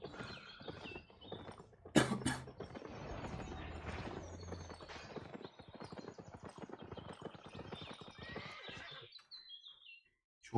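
A horse whinnies loudly while being ridden in a video game, followed by hoof clip-clop and movement noise over several seconds, with faint background sounds and a brief quiet spell near the end.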